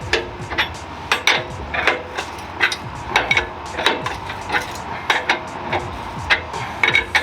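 Metal clanks and ratcheting knocks from loosening cam bolts on a Ford Bronco lower control arm during a Dobinsons IMS lift kit install, with sharp irregular taps repeating close by throughout.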